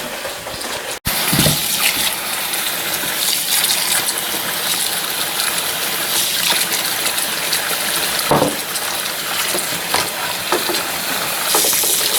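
Water from a tap runs steadily into a tub being rinsed out after making deer sausage, a continuous hissing splash that continues for the whole stretch, with a brief bump near the start.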